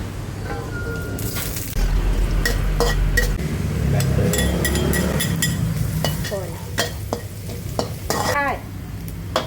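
Luffa gourd stir-fried with egg in a pan: loud, steady sizzling with repeated sharp clanks and scrapes of a utensil against the pan, up close and without speech.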